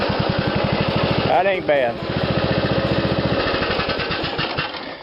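A small engine cranks and runs with a fast, even chugging pulse heard up close, while someone briefly speaks over it partway through.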